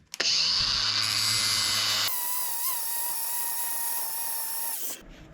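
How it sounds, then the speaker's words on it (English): Power tool grinding down a metal part on a 2001 Craftsman LT1000 lawn tractor, a loud steady high-pitched whine close by that shifts pitch partway through and runs about five seconds before cutting off. "I think we'll just grind it down some."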